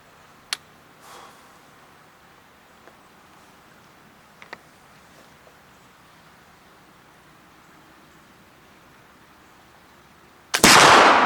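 A swivel breech muzzleloader fires from its ramrod-side barrel at an outdoor range, a single loud blast near the end after a long quiet wait with a few faint ticks.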